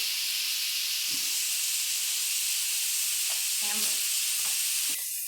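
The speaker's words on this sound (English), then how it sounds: "So while we're waiting for our kielbasa to cook on this first side here" Precooked kielbasa sausages sizzle loudly and steadily in a hot pan, a dense continuous frying hiss broken by a few soft scrapes and clinks.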